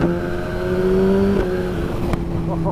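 A Suzuki GSX-R motorcycle engine revs hard through quickshifted upshifts with blipped changes, pitch climbing then dropping sharply at each shift, loud and close with no talking.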